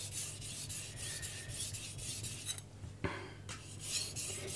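Steady gritty rasping of a knife blade stroked back and forth across a Chosera 800 whetstone, close and continuous, with one sharper scrape near the end.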